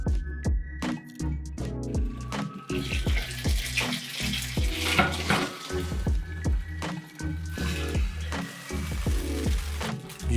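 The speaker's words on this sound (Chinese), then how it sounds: "就可以加水冚盖， 焗佢大概五分钟，" Pan-fried pork buns (sheng jian bao) sizzle in a pan after water is added and the lid goes on, giving steady crackling and hissing with rhythmic bubbling pops throughout, close and fairly loud.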